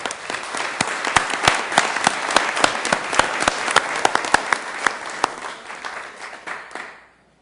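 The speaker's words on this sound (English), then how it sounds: "Let's give them a round of applause, please" An audience at a Sioux Falls city council meeting applauds in dense, close clapping with a few sharp louder claps standing out, then fades and stops near the end.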